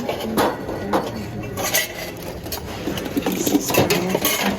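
A brand new kettle is handled in a thrift store, giving off a string of close metallic clanks, knocks and light clinks that come in irregular bursts over several seconds.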